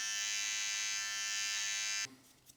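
An electric beard trimmer buzzes steadily and close while tidying the back of the neckline on a beard, a bright even whine that cuts off near the end, leaving faint handling noise.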